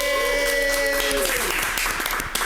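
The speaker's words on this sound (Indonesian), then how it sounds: "Sekali lagi tepuk tangan untuk" Applause from a small group in a compact podcast studio after a visiting rock and roll band's session, following a fading sustained tone and continuing as steady, close clapping.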